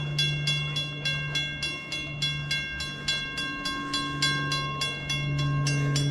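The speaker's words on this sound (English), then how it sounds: "there's a train coming" Railcars roll by with a steady, regular clickety-clack of wheels over rail joints, accompanied by a sustained low hum and tonal ringing.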